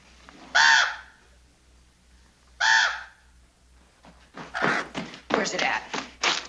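A crow caws twice in loud, separate bursts with pauses between them, and then a run of thumps and rustling follows close by, in a rural Western setting.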